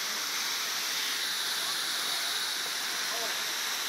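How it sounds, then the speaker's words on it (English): Constant hissing roar of a waterfall pouring into a pool inside a massive cave, steady and enveloping without pauses. "In this massive hole, there's a waterfall."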